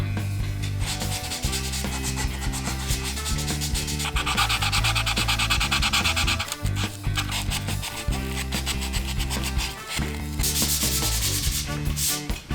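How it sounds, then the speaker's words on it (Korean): Sandpaper rubs back and forth over a half-finished wooden bear-shaped toilet-paper holder, smoothing both faces and the cut edges. The strokes are steady and rhythmic, a close, continuous rasping scrape with no voices. "양면을 샌딩 후 잘린 단면도 부드럽게 정리해 줍니다."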